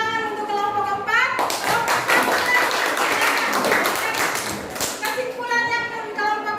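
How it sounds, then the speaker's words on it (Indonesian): A classroom of students breaks into loud, dense applause for a student group at a senior high school, with many hands clapping steadily for about four seconds between stretches of a teacher speaking. "mari kita berikan tepuk tangan untuk kelompok 4"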